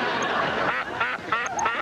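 Ducks quacking in a short burst of several nasal calls, close and loud.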